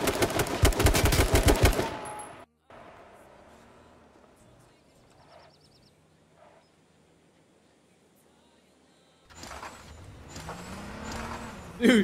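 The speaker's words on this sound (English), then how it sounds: "your car sounds like garbage. It sounds like you broke your turbo" A car engine with a broken turbo in the video game H1Z1 revs with a rough, raspy drone, rising in pitch toward the end, following a burst of loud gunfire and a quiet stretch.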